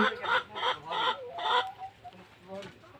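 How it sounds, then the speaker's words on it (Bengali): Chickens in a poultry shed cluck and squawk in a quick series of loud, close bursts, then softer scattered calls as the flock settles. "আপনারা এখানে একটি মুরগির শেড দেখতে পাচ্ছেন।"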